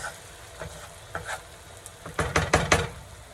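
A spatula scrapes and stirs fried rice in a hot pan, with a steady sizzle underneath. Several short scraping strokes grow louder and come in a quick cluster toward the end, with no talking.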